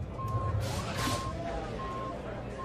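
An electronic alarm sounds during an evacuation in a Star Wars film, a steady mid-pitched tone pulsing roughly once a second. A low background rumble and bursts of noise run underneath it.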